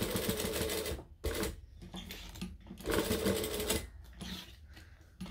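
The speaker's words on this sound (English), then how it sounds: "And continue sewing." Sewing machine stitches fabric on a bag near a zipper, close rapid mechanical whirring in several bursts separated by short pauses.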